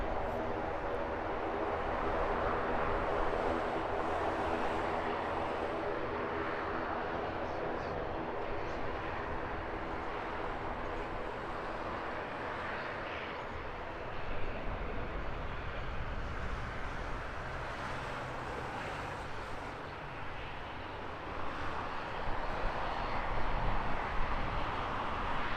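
A small ATR turboprop airliner slowing on a Heathrow runway, its engine roar faint and distant as a broad, steady rumble that swells slightly toward the end, with faint voices talking at times.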